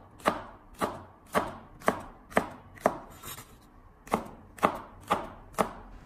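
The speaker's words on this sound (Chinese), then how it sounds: "再准备2根长的线椒，我们同样的将它改刀切成小圈。" Long chili peppers sliced into small rings with a knife on a cutting board: eleven crisp, evenly spaced chops with a short pause midway, close and clear, no voices.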